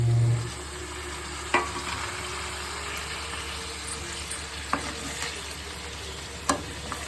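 Onions and turmeric frying in a pan for chicken curry: a steady close sizzle with stirring and three sharp spoon clicks against the pan, without speech.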